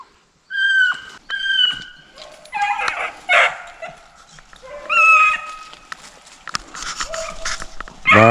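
Hunting dogs bay and yelp while chasing swamp rabbits in Mississippi woods, loud close bursts of high, drawn-out howls and yips with short pauses between them, several dogs overlapping.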